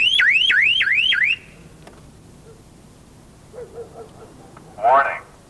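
A car security alarm's warning siren, a repeated rising electronic whoop cycling four times loudly and close, then cutting off to quiet room tone with brief chirps.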